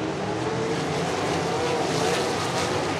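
USAC National Sprint Cars roaring around the dirt oval at Red Dirt Raceway, a dense, continuous engine howl filling the clip with no break.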